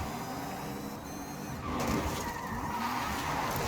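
A BMW car in Forza Horizon 5 gives a loud, steady, harsh and piercing engine drone that grows a little louder and grittier partway through, with no talking.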